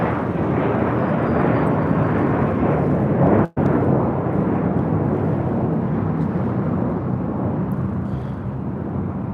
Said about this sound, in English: This is American Airlines Flight 274 taking off to JFK on an A321.